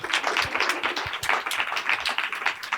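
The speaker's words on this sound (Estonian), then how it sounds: "Nii et suur aplaus Marionile." A conference audience gives Marion a lively round of applause, with dense, continuous clapping from many hands throughout and no pause.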